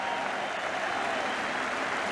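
Warm, sustained applause from the football crowd at White Hart Lane after Spurs beat Manchester United, a dense, even wash of clapping from a large stadium audience, steady throughout with no single voice standing out.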